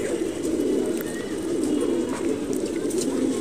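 A flock of pigeons in a loft coos constantly and loudly, their overlapping throaty calls merging into a thick, unbroken murmur with no pauses.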